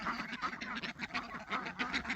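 Ducks quacking repeatedly on a homestead, with a large female Jumbo duck among them, harsh nasal calls rising in quick clustered bursts close by, with no talking.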